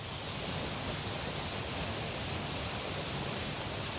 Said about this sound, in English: That must be a culvert of some sort down there. But wow, is that ever pouring out of there?